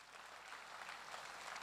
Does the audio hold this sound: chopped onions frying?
no